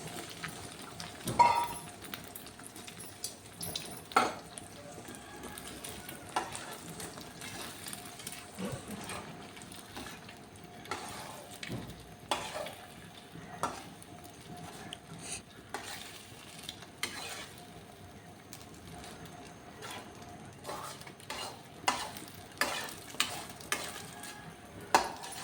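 Beaten eggs seasoned with salt and turmeric powder frying in a pan while being stirred, a soft low sizzle broken by repeated sharp scraping clicks of a spatula at irregular intervals throughout.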